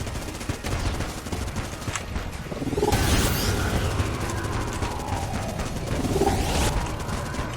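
Rapid bursts of vulcan cannon fire in the video game Enter the Gungeon, rattling on in dense volleys that swell twice, with crashes and game effects mixed in.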